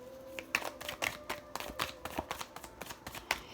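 A deck of Osho Zen Tarot cards is shuffled by hand close up, giving a quick run of crisp riffling flicks and taps over about three seconds.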